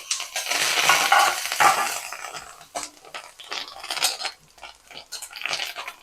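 Curry leaves and dried red chillies fry in a pan for temple-style puliyogare, a close crackling sizzle with a spoon scraping and stirring in uneven bursts; there is no talking.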